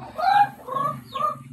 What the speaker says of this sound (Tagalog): Gasulod ang manok.